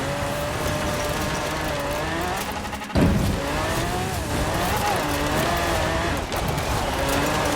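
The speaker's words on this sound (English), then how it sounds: "The engine that you'll hear for the rest of the run is from a Lamborghini Huracan, a V12 engine." In Forza Horizon 4, a Lamborghini Huracan V12 engine drives a limousine on dirt races across Britain. It runs loud and close with a constant high revving drone, climbing pitch through the gears, a sudden shift break, and some tire noise.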